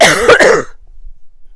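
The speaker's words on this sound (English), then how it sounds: "Still have a nasty cough." A single loud, close cough, harsh and throaty, lasting about half a second before dropping into silence.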